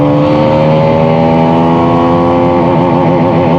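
A Hero Karizma XMR motorcycle pulls hard through its gears, its loud, close engine note climbing steadily in pitch with a rising harmonic whine.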